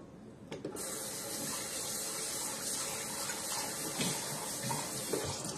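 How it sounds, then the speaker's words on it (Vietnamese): Water gushes loudly from a kitchen tap during spring roll preparation, starting abruptly and then running in a steady, close hiss. "Bên này xả nước ào ào."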